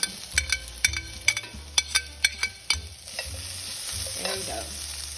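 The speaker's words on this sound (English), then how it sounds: "Dump these in and we get a nice sizzle." Hash browns clatter into a hot pan with a series of sharp knocks and scrapes, then a loud, steady sizzle takes over.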